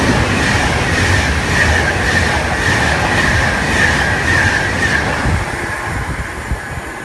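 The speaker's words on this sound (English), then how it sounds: "As we have another 390 passing through platform 4." A Class 390 train passes through platform 4 at Milton Keynes Central, a loud continuous rumble of wheels with rhythmic clicks and a faint squeal, easing slightly toward the end.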